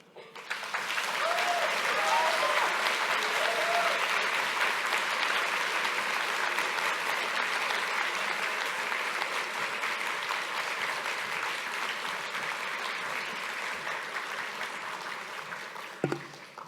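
Sustained applause from a large summit audience after a keynote, a dense wash of clapping that holds steady throughout, ending with a brief thump.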